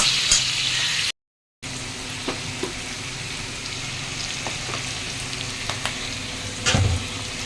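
Food fries in a pan on a home stove with potatoes on the cook, a continuous close sizzle with scattered clicks and scraping, interrupted by a brief gap.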